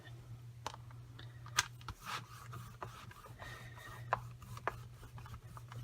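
A rubber stamp is rubbed over paper in a crafting session, making faint, soft scrapes and light taps, some sharper than others, over a steady low hum.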